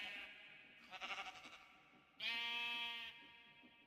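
Sheep bleating in Minecraft with the Create mod: a wavering bleat around one second, then a louder, longer harmonic bleat near the middle, close and clear with no talk.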